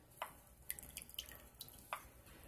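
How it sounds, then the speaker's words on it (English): Excess dye drips and trickles off dyed paper sheets, a handful of faint, scattered drops and small splashes over a low background hiss, quiet and close. "Let me drain off the rest. Drain off the excess"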